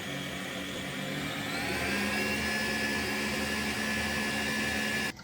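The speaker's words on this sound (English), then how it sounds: "Beat the mixture until creamy and smooth" An electric mixer beats icing sugar, milk and vanilla extract into a creamy frosting, a steady, loud motor whir that holds constant for several seconds before cutting off.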